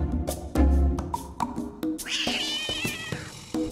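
A black cat meows several times at close range, the calls rising into drawn-out, wavering cries over scattered clicks and knocks.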